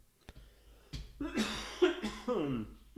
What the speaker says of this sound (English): right as I cough into the mic